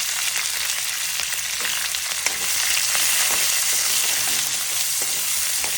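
Green chillies and onions sizzle in hot oil in a pan for carrot potato rice, a loud, continuous frying hiss with occasional stirring scrapes throughout.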